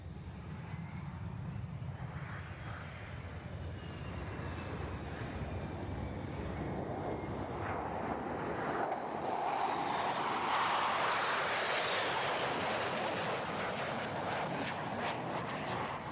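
A formation of military jets passing at the NAS Oceana air show, a broad rumbling roar swelling and shifting in pitch as the aircraft fly by, loud and continuous across the whole stretch.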